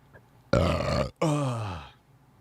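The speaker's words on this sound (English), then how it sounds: "I had tuna fish for dinner, and I burped it up" A person burps after a tuna fish dinner: two loud, close, deep belches in quick succession, the first blunt and the second longer with a drawn-out, falling groan, alone with no talk.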